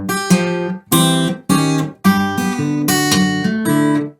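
Guitar plays a country blues turnaround in short, thinned-out chord stabs separated by brief gaps, clear and close with nothing else heard.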